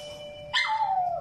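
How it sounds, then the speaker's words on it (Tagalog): A ringing electronic doorbell chime lingers, then a dog indoors lets out a brief rising cry that slides down into a short howl. "Sumasagot siya pag nag-doorbell ako. Kawawa naman yung aso sa loob."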